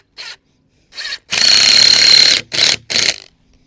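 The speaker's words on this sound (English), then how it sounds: "Don't over tighten the screws." A power drill drives screws into a wooden cold frame base, giving short bursts followed by one long whirring run and two more quick bursts, loud and close with silence between.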